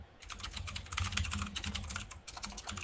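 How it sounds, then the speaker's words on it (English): Rapid typing on a computer keyboard, a close, busy run of clacking keystrokes with brief pauses, heard alone without talk. "He's typing away hardcore."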